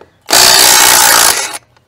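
UYUSTOOLS ILL202 brushless impact wrench firing in a single burst of about a second and a quarter, a loud, dense hammering buzz that starts and stops abruptly, with silence around it.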